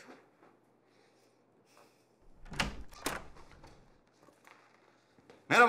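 A door in a house opens with soft handle and latch clicks, followed by a couple of louder knocks of movement. Faint rustling fills the gaps, and a sharp thud ends the sequence.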